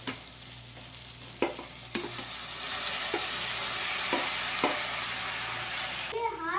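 Garlic, chili, onion, curry leaves and cashews sizzle softly in a pan. A spoon scrapes and taps in sharp bursts as the mix is stirred, and a brief squeak of voices comes near the end.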